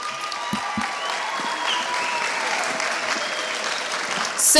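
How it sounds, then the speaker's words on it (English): A school audience keeps up steady, dense applause at an indoor event, clapping evenly from start to finish and swelling a little louder at the very end. "One more round of applause,"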